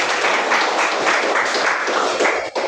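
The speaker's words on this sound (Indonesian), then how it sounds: "Tepuk tangan buat Andre." Students applaud in a classroom at an Indonesian Catholic religion lesson, a dense, steady burst of many hands clapping close by for about three seconds, with no talking over it.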